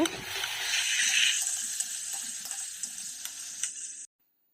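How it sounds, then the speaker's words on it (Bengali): Food sizzles in a pan during a rohu fish and potato dish, frying after the lid comes off over lowered heat. A steady, close hiss with faint ticks runs for about four seconds, then stops abruptly. "ভালো করে ভেজে নেব"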